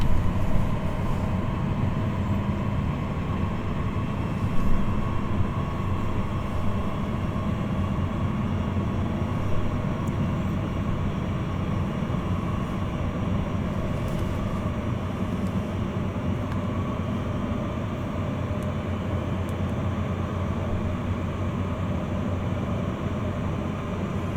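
Heavy freight train rumbling through the long Sandpatch tunnel in the video game Train Sim World 2020, a loud, constant low diesel drone with a faint squeak or two.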